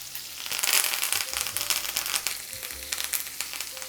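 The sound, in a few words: garlic and rosemary sizzling in a hot pan with chicken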